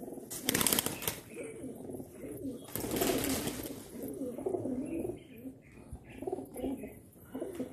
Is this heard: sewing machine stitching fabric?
no